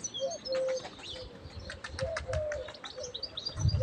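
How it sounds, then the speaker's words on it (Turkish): Pigeons take flight with bursts of flapping wings close by, mixed with a few faint chirps and short whistling calls, ending in a louder rustle of wingbeats. "Şimdi kimse kuş uçurmuyor tabii benden başka."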